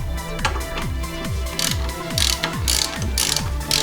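A ratchet wrench tightens the bolts on a wheel spindle during a Wilwood big brake and wheel bearing job on an AE86, giving steady rapid pawl clicks in repeated strokes, close and loud with no talk.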